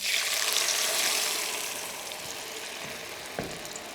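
Garlic stir-frying in a pan for Mie Aceh, a steady close hiss of frying oil that eases slightly in level, with a brief clatter of stirring near the end.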